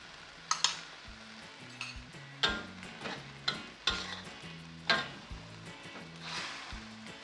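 Two beaten eggs poured into a pan with vegetables and stirred, soft sizzling under repeated scraping and tapping of a utensil against the pan, in a regular stirring rhythm, with light music playing beneath.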